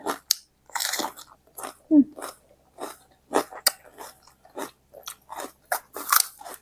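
Loud, close crunching bites and chewing of a spicy Thai-style salad of three kinds of mushroom, eaten with small Korean greens, in irregular bursts with short pauses between mouthfuls.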